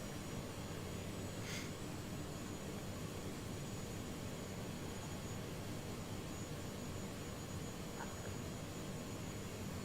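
Airbus A330 engines in Microsoft Flight Simulator drone as a faint, steady broadband roar throughout, with no voices.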